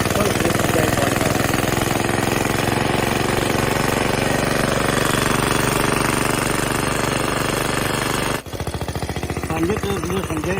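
An antique lawn mower engine runs loud and close with a rapid, rattling chug, continuous throughout and briefly dipping before picking straight back up.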